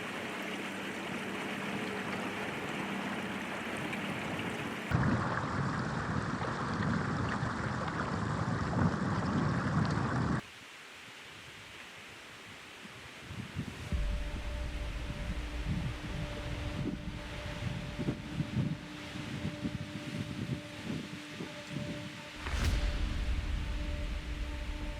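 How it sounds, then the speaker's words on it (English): Steady wind buffets the microphone on a river during a moose hunt, a broad rushing roar that briefly drops out, with a faint hum beneath. "Another windy day on the river"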